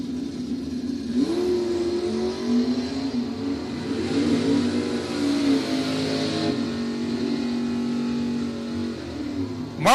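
Drag race launch of a 1991 Ford Mustang and a 1971 Chevy Vega wagon on a quarter-mile strip, loud engines revving and accelerating together with a rising, wavering roar that holds steady for the whole pass.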